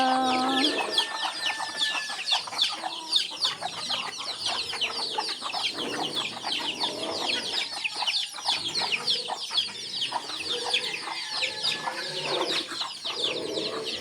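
Chickens cluck and chatter continuously in a busy, overlapping chorus, close by, with a few higher calls standing out; no one speaks.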